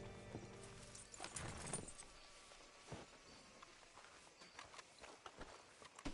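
Horse hooves clip-clop on the ground in a western video game, an irregular string of soft knocks after a brief louder rustle, faint and distant.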